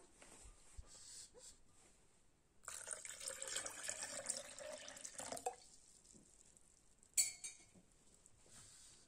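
Water runs from a kitchen tap in a steady, rushing stream for a few seconds, set between quieter moments of faint clinks and handling noises, with a sharper clink near the end.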